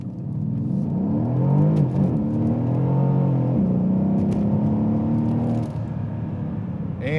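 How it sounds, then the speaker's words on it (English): A 2012 Mercedes-Benz CLS63 AMG in sport mode accelerates hard, the engine note climbing through several rising sweeps with a gear change between them, loud and steady from inside the car. "It is in sport mode, so I'm going to go ahead and accelerate and show you what this will actually do."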